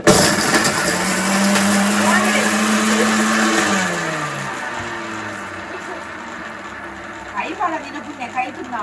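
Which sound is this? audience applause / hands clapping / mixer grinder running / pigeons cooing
mixer grinder running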